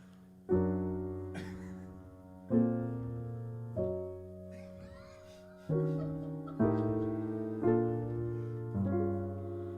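Piano chords struck over low octaves, six separate attacks each ringing and decaying, played slowly and alone at moderate volume.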